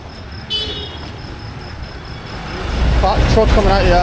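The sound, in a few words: truck and tractor passing on Delhi street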